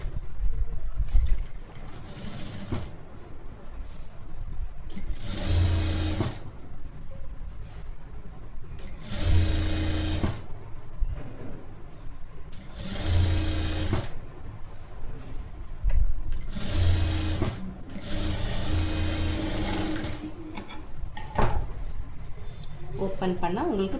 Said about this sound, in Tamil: இப்படி வச்சு கரெக்டாக 1/2 இன்ச்சை ஸ்டிச் பண்ணிக்கோங்க